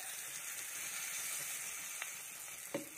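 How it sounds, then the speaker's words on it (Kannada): Curry leaves sizzle in hot oil for a tempering of mustard seeds and dried red chilli, a soft, steady hiss with a couple of sharper crackles near the end and no talk. "ಒಗ್ಗರಣೆನ ಹಾಕೋತಾ ಇದ್ದೀನಿ."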